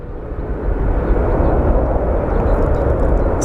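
An airliner taxis at Sky Harbor International Airport in Phoenix, a continuous loud low jet rumble and roar held steady throughout.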